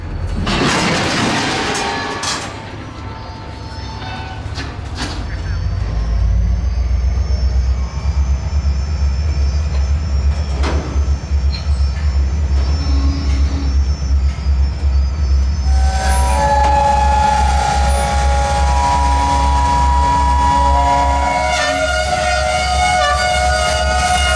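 Aberdeen Carolina and Western freight train moving old storage tank cars through forest: loud, sustained engine drone and rumble with high whining horn-like tones and squeals, intensifying partway through and continuing steadily.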